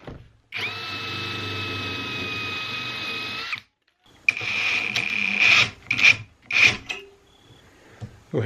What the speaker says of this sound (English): I'm also going to put some holes using a Forstner bit